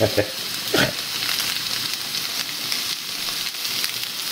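Vegetables fry in a pan for vegan borscht, a steady close sizzle with a couple of stirring scrapes near the start, alone without talk.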